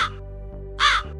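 A crow caws loudly twice, a short harsh call followed after a pause by a longer one, standing out clearly over a steady low hum in an animated storytelling scene.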